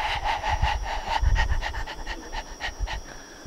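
A hungry-looking, calm dog pants in quick, steady rhythmic breaths, close by and fairly loud, with no talking over it.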